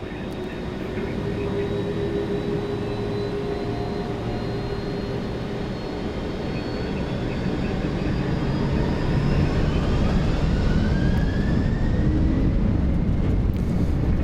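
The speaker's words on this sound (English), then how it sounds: "Lufthansa Cargo 8160, runway 7 center, cleared for takeoff." A Lufthansa Cargo MD-11F freighter takes off from runway 7 center at New York JFK, heard from the cockpit as a loud, continuous engine roar that builds gradually, with rising whining tones over the deep rumble.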